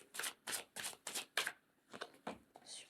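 Tarot cards are handled and drawn from a deck, giving a quick run of five crisp, papery shuffling bursts, then a few softer card flicks and slides close by, with no talking.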